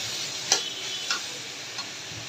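A utensil stirring green bananas and potatoes in a pan, with three light scraping clicks spaced about half a second apart over a steady low sizzle.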